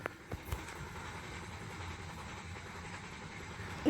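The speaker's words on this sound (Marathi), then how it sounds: "इकडे इंजनचा आवाज आहे म्हणून मी इथं आलो." Train engine rumble from the Indian Train Driving 3D video game, a quiet, steady low drone with a couple of brief clicks at the start.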